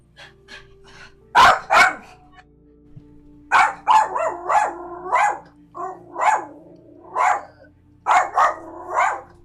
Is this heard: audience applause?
no